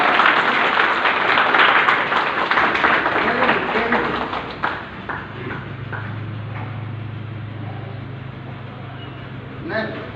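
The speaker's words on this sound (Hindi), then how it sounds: "सभी लोग की तालियां रुकनी नहीं चाहिए।" Dense crowd clapping fills the first four seconds at a business programme at Hotel Ashok in Hasanganj, Bachhrawan, Raebareli, then thins out and fades, leaving a steady low hum and scattered faint claps.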